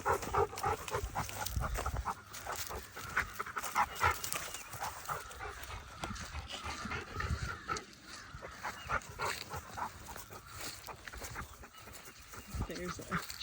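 A woolly farm dog pants close by outdoors, its quick breathing running steadily under people talking, with a few whimpery dog sounds mixed in.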